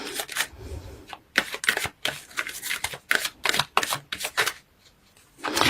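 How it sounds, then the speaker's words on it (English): Tarot cards are shuffled and pulled in quick bursts of crisp riffling and flicking, close and clear, separated by brief pauses. "So let's pull few cards to clarify situation from Gildred."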